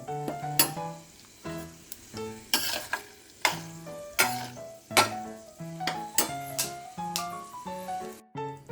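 Sharp clinks and scraping of a utensil stirring peanuts in hot oil in a pan, with repeated metallic strikes over a faint sizzle, close up.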